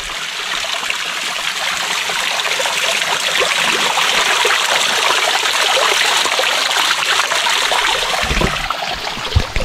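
A small waterfall stream in the Nilgiri hills near Gudalur rushes steadily and close by, a dense, loud, continuous wash of flowing water with no talk over it.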